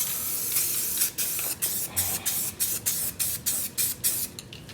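An acid rust converter is sprayed onto the front fenderwell of an abandoned 1970 Dodge Challenger in about a dozen short, close hissing bursts at a quick steady rhythm.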